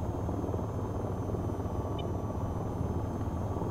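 The AH-94 attack helicopter in the VTOL VR flight game makes a steady, moderately quiet rotor drone that holds an even, continuous rumble throughout without a break.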